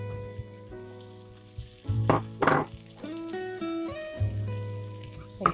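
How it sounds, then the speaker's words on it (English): Onions and potatoes fry in a pan for an omelette, giving a steady close sizzle with occasional stirring clunks and scrapes over a low background hum. "Fry till it cooks."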